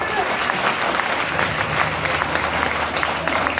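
Sustained audience applause at a business seminar in Akhnoor, Jammu, many hands clapping together at a steady level throughout.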